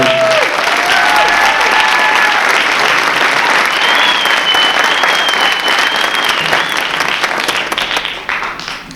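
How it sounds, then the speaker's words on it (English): Loud, sustained audience applause for a jazz band's rhythm section fills a concert hall, with some whistles rising above the clapping before it fades out near the end. "can we give them a hand applause for"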